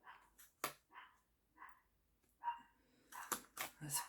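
A neighbour's dog barks in a garden, with a series of sharp, fairly faint barks spaced out at first, then a quicker cluster near the end, with no talking.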